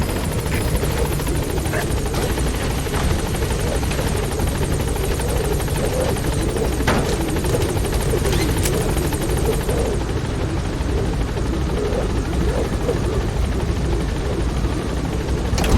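The B-Quad helicopter from Metal Gear Solid V: The Phantom Pain thunders loud and continuous with a dense rotor drone, holding steady throughout as it flies in to a landing zone.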